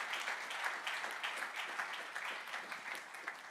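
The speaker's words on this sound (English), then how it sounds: "Please, a round of applause for Mr. Laolu Alabi." Audience at a real estate summit gives a round of applause, a continuous crowd clapping of moderate loudness with slight swells, heard from within the room.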